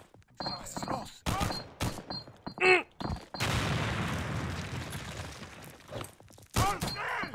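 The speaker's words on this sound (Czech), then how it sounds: "Fascinuje mě ten obrovský hluk, co dělá ten výbuch" A loud, sustained explosion in a Wolfenstein mod roars for several seconds amid bursts of gunfire-like blasts and crashes, with a voice talking briefly in between.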